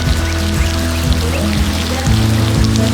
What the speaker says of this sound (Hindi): पिछले आधे घंटे से जो ज़ोरदार बारिश गिर रहा है